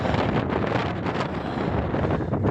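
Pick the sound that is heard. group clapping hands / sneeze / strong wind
strong wind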